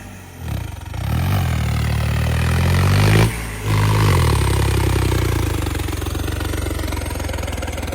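A tractor stuck in mud revs its engine in a loud, continuous drone that dips briefly partway through, then surges back and holds steady until the end, with no voices.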